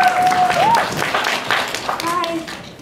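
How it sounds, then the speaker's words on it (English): A brief burst of crowd clapping and cheering at an anime convention panel, with voices talking over it and faint whistle-like tones. "Give everybody a round of applause,"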